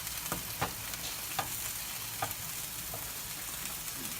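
Seasoned beans with salt, pepper, garlic and onion powder simmer and sizzle in a pan while a spoon stirs them, giving several soft scraping strokes over a steady low bubbling, close and fairly quiet, with no talking.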